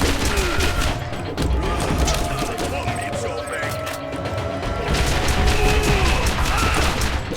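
Rapid, continuous bursts come from the Quicksilver pistol in Borderlands 1, fired like a machine pistol. The dense clattering volley is loud and sustained throughout, with a voice talking over it.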